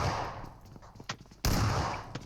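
Gunfire in the mobile battle-royale game PUBG Mobile, a few sharp shots followed by a loud sustained burst of firing near the end, with faint background game noise.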